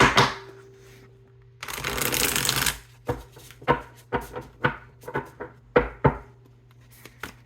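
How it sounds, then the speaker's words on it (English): Tarot cards are shuffled close by: a long riffle followed by a series of quick, crisp taps and slaps as the deck is squared and cut. "Let's just do a little shuffle here."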